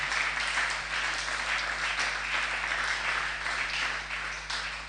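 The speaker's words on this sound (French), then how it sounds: "tobeteli yo maboko" A church congregation claps together in steady, sustained applause, a dense wash of hands at moderate distance that runs without a break.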